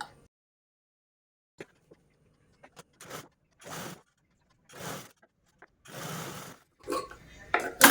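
A sewing machine stitches piping along opposite sides of a cloth bag made from a single square piece, running in several short bursts separated by quiet pauses.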